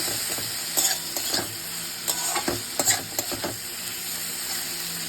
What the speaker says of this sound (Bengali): দিয়ে দেবো এর মধ্যে ভেজে রাখা বেগুনগুলো, আবারও ভালো করে মিশিয়ে নেব।